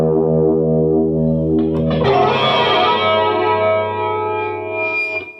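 Electric guitar through a Boss ME-70 multi-effects chorus setting, a sustained chord that swells into a shimmering, wavering wash with echo tails, loud and close with no talking.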